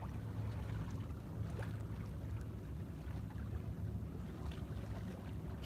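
A boat moving across water at night in New York City, with a steady low engine rumble and wind noise throughout, no voices.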